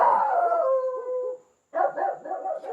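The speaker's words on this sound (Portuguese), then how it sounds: "Os cachorros latindo, gente." Dogs at home barking and howling nearby, a drawn-out howling bark followed by a short pause and then a burst of rapid yipping barks.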